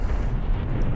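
Incendiary artillery strike landing on a small hamlet in the Graviteam Tactics war game, a dense, steady roar of fire and blasts filling the low end, loud and continuous for under a second.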